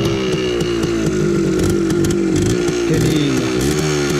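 A small buzzy two-stroke motorcycle engine revs continuously at close range, its high raspy whine wavering slightly in pitch, with a brief word spoken near the end.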